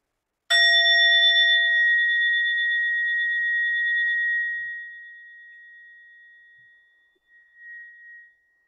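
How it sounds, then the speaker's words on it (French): A small mindfulness bell is struck once during a meditation gathering, a clear bright ring that sustains and slowly fades over several seconds, alone in silence. "j'invite un petit son de cloche"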